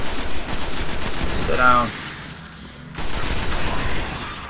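Rapid automatic gunfire from a weapon in the Destiny beta on Xbox One comes in two dense, loud bursts split by a short lull, with a brief spoken line over the first burst.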